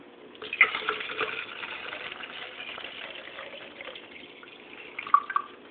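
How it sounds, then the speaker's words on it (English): About one liter of water poured into a container for hatching brine shrimp, a steady close gushing stream lasting several seconds with a few louder splashes near the end. "You're going to have to put the water in."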